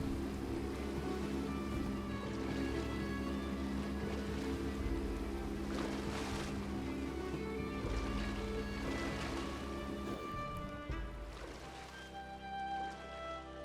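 A small boat motoring across open sea in the Unravel video game, with a steady engine drone and washing water and waves running throughout at a fairly even level.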